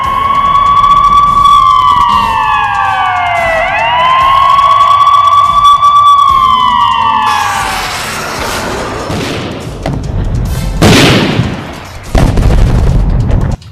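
A loud wailing air raid siren in wartime Kyiv rises and falls in long sweeping tones, then fades into rumbling noise and a few sharp bangs.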